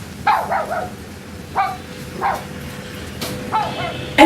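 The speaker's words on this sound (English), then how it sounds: "Why is the dog howling so much?" A dog cries out in short, rising-and-falling yelping howls, several brief bursts separated by pauses, fairly close and loud against a quiet room.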